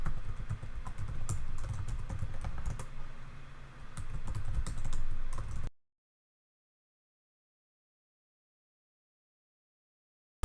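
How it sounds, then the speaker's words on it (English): Fast, steady clicking of keys on a computer keyboard as keywords are typed in, close and distinct for about five seconds before cutting off to silence. "it's literally just typing in the keywords that I've already done the research on, and then hitting enter"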